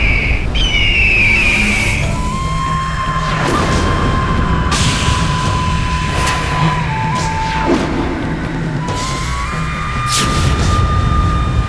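A giant bird's dramatic squawking effect from a mythological TV drama, loud shrill cries over booming rumbles and crashing swells of a dense soundtrack, continuous and close.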